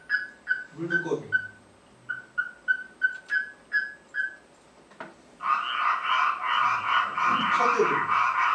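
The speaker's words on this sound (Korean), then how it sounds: "물두꺼비" A Korean water toad calls in short, evenly spaced whistling notes, then gives way to a loud, continuous chorus of trilling calls; a voice speaks briefly at the start.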